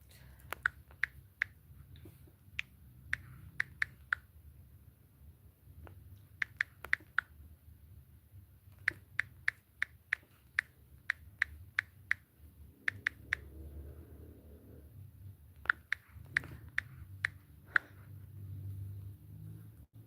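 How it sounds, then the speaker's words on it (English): A computer keyboard is typed on in irregular bursts of crisp, close clicks with short pauses between them, over a faint low background hum. "Guys, I'm typing."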